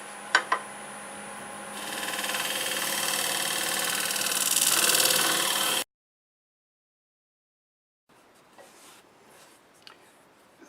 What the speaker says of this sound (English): I'll clean the center side of this flange with a negative rake scraper.